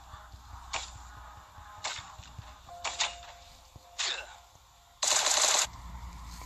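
M16 gunfire in the mobile survival game Last Day On Earth during a raid: several separate sharp bursts spread over a few seconds, ending in one longer, louder stretch of rapid fire, with no talk.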